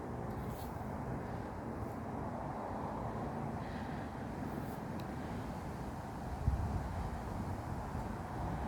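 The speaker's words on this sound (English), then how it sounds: "Yeah, you can hear the traffic in the background." Faint, distant road traffic forms a steady low rumble behind a quiet, peaceful picnic area, with some light wind and no clear single vehicle passing.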